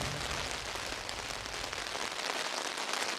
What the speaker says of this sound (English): I'm hearing some rain.